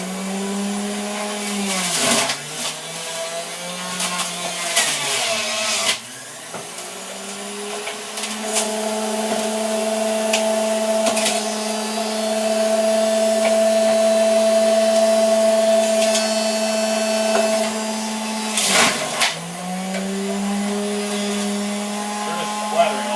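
A Big Boss Juicer motor runs on its high setting while juicing cut apples, a loud steady whine with a sustained hum that holds for most of the stretch, dipping briefly twice as the load shifts.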